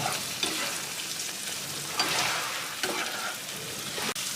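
Chili sizzles steadily in a hot pan, close by, with occasional scrapes of stirring over the constant crackle.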